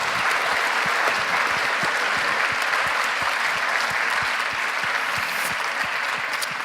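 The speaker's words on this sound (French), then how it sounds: "je crois qu'on peut les applaudir" Audience members clap for improvisers at a science stage show, sustained, even applause from a sizeable crowd filling the whole stretch at a steady level.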